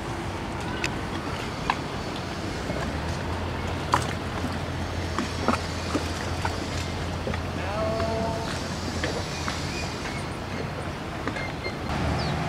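Small tourist boats on a river in Tigre, Argentina, with a low engine drone, water and wind noise and occasional knocks, heard from nearby over a steady outdoor background.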